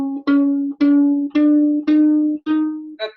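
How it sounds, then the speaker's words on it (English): Violin string plucked repeatedly while the tuning peg is turned, six evenly spaced twangs, each decaying quickly, close and loud, with the pitch rising gradually. "I want it to sound low while you pluck it, and slowly turn it higher."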